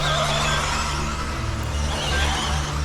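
An Associated RC10B74.2 four-wheel-drive RC buggy races around a track, its motor whine dense and continuous under a steady wash of background noise throughout.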